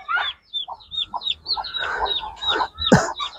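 Clucking and short calls from a healthy breeding rooster of about 4 kg, recently dewormed, repeating in quick bursts close by with one louder cry near the end and no talk.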